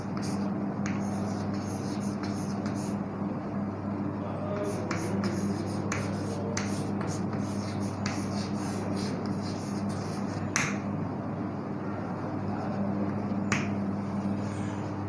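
Marker taps and short strokes on a board in an English class, scattered quick clicks over a steady low room hum, close but light, with no one speaking.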